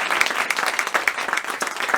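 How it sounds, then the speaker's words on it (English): An audience at a schools sponsorship announcement applauds, a steady burst of many hands clapping at close range for two seconds. "Please, a big round of applause."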